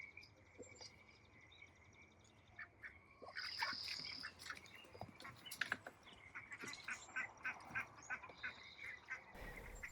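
Ducks kept on a regenerative garden farm quack in irregular bursts, a few nearby calls overlapping with fainter ones over a soft outdoor background, with no talking.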